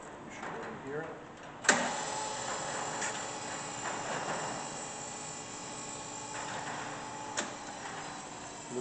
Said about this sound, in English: Come back up and bring the spindle on. Quiet, but you should be able to hear it.